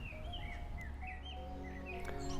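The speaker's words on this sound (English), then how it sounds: "take a moment to stop and enjoy being able to hear the birdsong" Birdsong outdoors in the middle of a city, with repeated chirps and short whistled phrases from a few birds over a steady low urban hum.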